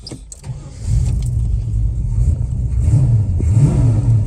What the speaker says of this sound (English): when it goes down to drive, obviously it sort of drops the RPMs just a bit because it's engaging the transmission